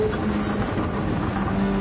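A Porsche 911 racing in Gran Turismo 7 holds a steady engine drone close up, revving high with a faint rising tone near the end and no talk over it.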